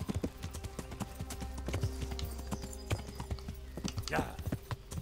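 Horse hooves clip-clop steadily while riding in the medieval game Kingdom Come: Deliverance, a continuous rhythmic trot close up with a brief whinny-like sound near the end.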